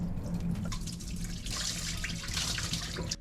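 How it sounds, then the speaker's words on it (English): Rice rinsed in water to wash off excess starch for a Chinese dinner, close splashing and dripping water with swishing and trickling that grows brighter midway, no voices. "First thing we have to do is wash our rice to get rid of excess starch."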